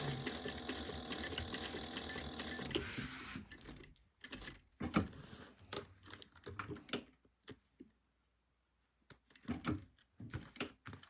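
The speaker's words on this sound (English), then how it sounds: "And then finish sewing up your pocket." A sewing machine stitches up a bag pocket, running steadily and fairly loud at first, then breaking into short, stop-start bursts of stitching with pauses and a silent stretch.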